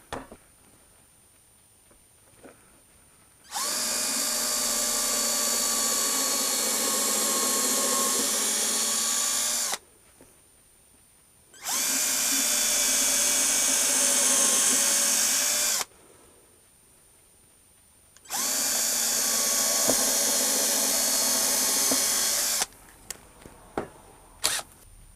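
A power drill drives screws into a wooden jig for a fretboard radius block in three long, loud, steady whirring bursts with short pauses between them, followed by a few light clicks of handling.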